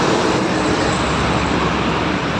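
Steady, dense road traffic noise fills a busy Quezon City street, a continuous broadband wash of cars and other vehicles at close to moderate distance, with no voices.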